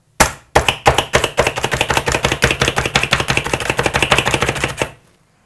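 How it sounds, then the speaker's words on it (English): A Slap Chop hand chopper dices onion in a rapid run of loud, close plastic clacks, roughly five strikes per second for about four and a half seconds, then stops; no voices. "some of you like to see me use that slap chop. So yes, I use it at home. I do use it on onions."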